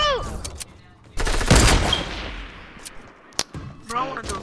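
Fortnite gunfire: a sharp, loud burst of rapid shots rings out and decays into a tail, followed by a single later crack, with brief voices before and after.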